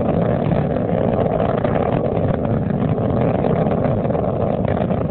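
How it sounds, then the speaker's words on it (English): A loud, steady roar from the space shuttle Atlantis's three main engines during launch, heard from an onboard camera as they throttle back, a dense low rumble and hiss that holds constant without a break. "the three liquid fuel main engines begin to throttle back in a three-step fashion"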